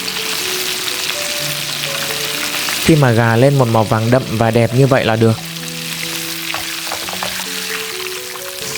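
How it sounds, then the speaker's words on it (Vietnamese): Chicken pieces frying a second time in hot oil give a bright, constant sizzle, while someone talks over the frying for a few seconds partway through. "bây giờ thì mình đi chiên lại gà lần 2"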